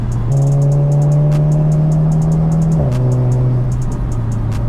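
A Seat Leon Cupra Stage 2 engine heard from inside the cabin: a loud, steady drone that holds its pitch, then drops after a gear change and carries on.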